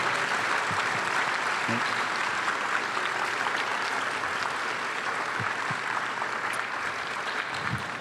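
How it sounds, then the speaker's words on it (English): Audience at a summer event interview applauding, continuous even clapping from a crowd, moderately distant and sustained, with occasional louder individual claps. "one final round of applause for Mark Eaton, please"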